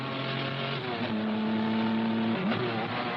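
Racing cars on a track during a race, loud engines droning and whining past, one high engine note holding then dropping as a car passes, a continuous close roar.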